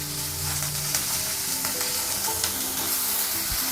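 Chopped tomato sizzles loudly in a hot pan, with a continuous frying hiss and occasional scraping stirs close by.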